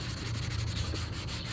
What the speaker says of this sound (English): Some of the black is coming through because obviously I'm sanding down to the black